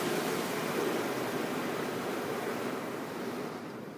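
Water spray from the rinse cycle of an Esso touchless car wash, heard from inside the car as a steady, loud broadband hiss and rush that fades slightly toward the end, with no talking.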